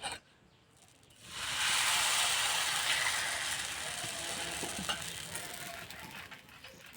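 Patishapta pitha batter, ladled into a hot pan, hisses into a loud, bright sizzle after a quiet start, then settles into a steady frying crackle with faint scraping.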